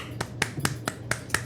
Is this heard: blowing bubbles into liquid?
no